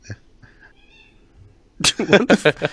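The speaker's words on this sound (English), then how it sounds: "Those are three cats who want to eat dinner." Three hungry house cats meow for their dinner. After a quiet stretch with faint background sounds, a close, loud burst of rapid, overlapping yowls takes up the last second.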